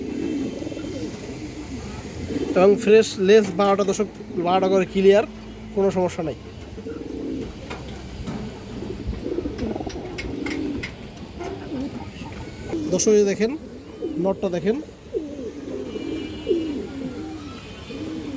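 Domestic high-flyer pigeons in a loft coo in bursts while someone talks steadily over them at close range.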